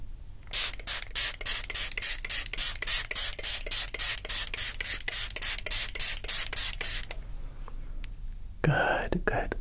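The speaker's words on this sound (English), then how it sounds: "I'm gonna give it a once over with some more spray" Hair spray hisses from a pump bottle in a barber shop, about twenty-five rapid, even bursts in a steady rhythm, close and crisp, followed by a brief quiet pause and a breathy rustle at the end.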